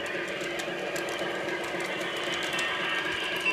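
Continuous rumbling whir of a model train engine running along the track, with faint regular clicks and a steady drone.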